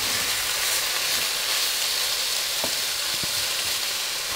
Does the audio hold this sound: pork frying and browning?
yes